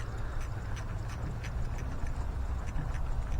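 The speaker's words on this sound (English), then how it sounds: "make a ratchet noise." A socket ratchet clicks in a rapid, steady train of small ticks while loosening an ignition coil bolt on a 2008 GMC Yukon XL, heard close over a dense low rumble.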